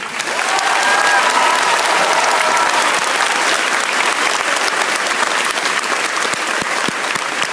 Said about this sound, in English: would you please join me in another round of applause for the band